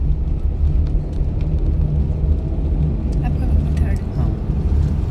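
A car engine running during a driving lesson, a steady low rumble from inside the vehicle that holds fairly even throughout, with faint voices talking over it.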